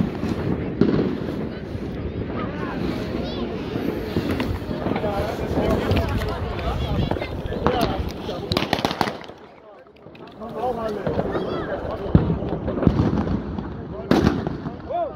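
New Year's Eve fireworks and firecrackers in a Polish border town crackle and bang in rapid, dense volleys, with sharp nearby reports and a brief lull midway, while people talk underneath.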